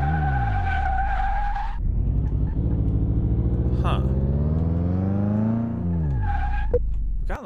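Car tires skid and squeal loudly through a brake test in the game Car Mechanic Simulator 2018, a sustained screech with engine tone dropping as the car stops, followed by a brief spoken murmur.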